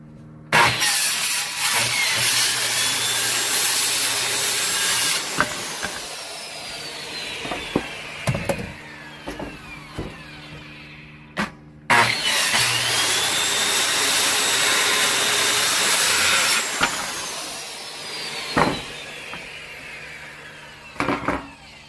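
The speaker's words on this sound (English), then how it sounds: "go ahead and cut those out, and then we'll have both of our side pieces" A power saw rips through wooden boards, cutting out side pieces for an outhouse-style birdhouse: two long, loud whining cuts with quieter knocks and handling of the wood between them.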